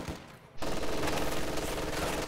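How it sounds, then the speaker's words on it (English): A machine gun in a strategy game opens up after a brief quiet moment, firing a dense, sustained burst of rapid shots that stays loud until the end. "but the machine gun is now firing"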